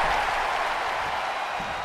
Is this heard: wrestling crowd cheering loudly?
yes